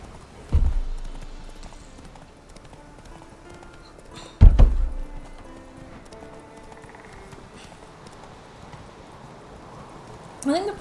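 Roach the horse in The Witcher 3, a few separate bursts of hoof clatter and thumps spread across a quiet stretch with faint game ambience.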